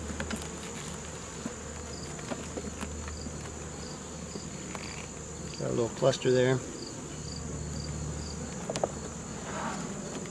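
Soft, continuous buzzing of a small, sparse cluster of honeybees inside a queen box in cold weather, close and low, with a brief louder burst of wings midway and a few words spoken quietly.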